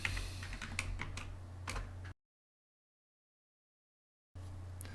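Rapid keystrokes on a computer keyboard, close and crisp in quick irregular bursts, dropping to silence partway through before the typing starts again.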